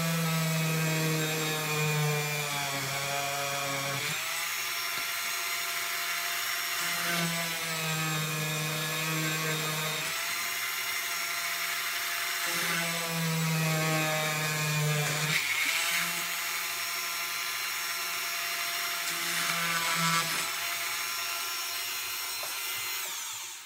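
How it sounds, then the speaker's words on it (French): A rotary burr drills a hole through a stone pendant, making a steady high-pitched whine. The pitch shifts and dips every few seconds as the pressure on the stone changes, and the sound stays close and constant for over twenty seconds. "Et on va sentir à un moment que le trou va se faire là, que ça va être percé."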